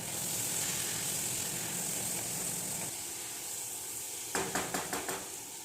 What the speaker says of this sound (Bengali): মশলার সঙ্গে মটরশুঁটিগুলো ভালোভাবে কষিয়ে নিতে হবে